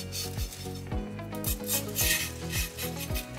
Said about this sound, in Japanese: それではね軽くね鱗を当たっていきます。